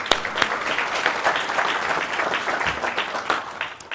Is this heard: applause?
yes